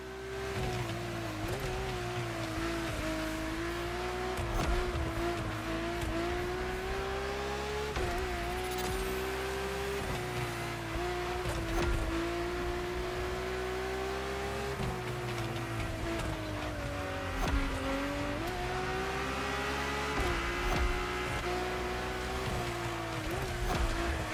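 A powerful drift car in The Crew Motorfest racing game drones steadily for the whole stretch, its engine pitch rising and falling with acceleration over a dense mechanical roar, with no talking.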